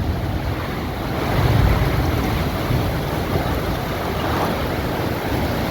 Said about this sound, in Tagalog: ang lakas ang lakas ng hangin